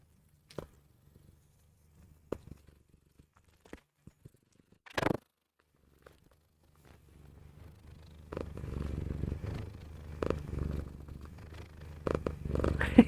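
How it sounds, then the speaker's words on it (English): A contented cat lying belly up purrs softly, the low rumble building steadily in the second half after a few scattered small bumps and rustles, close by with no talking. "Dolly Purring Show"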